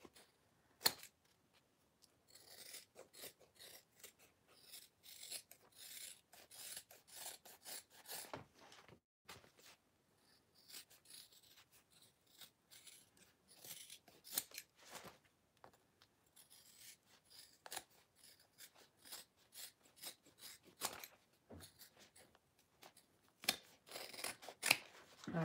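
Scissors snip repeatedly at a leather-like wallet piece being trimmed, a quiet run of short crisp cuts and light rubbing with brief pauses, close and alone.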